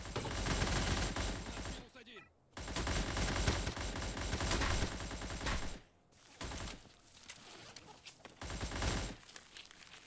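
An AN-94 Abakan rifle in a video game fires dense, loud bursts of gunfire in long stretches broken by brief pauses, with the individual two-round bursts blurred together in sustained rattling shots.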